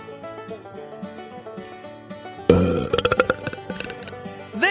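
A wet belch sound effect bursts in abruptly after a stretch of music, then gurgles on in loud, uneven pulses to the end.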